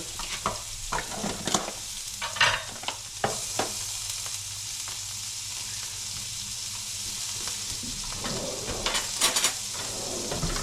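A bass fillet fries in a pan with a knob of butter, giving a steady close sizzle. Scattered scrapes and clatters of a utensil and pan come through, busier at the start and again near the end.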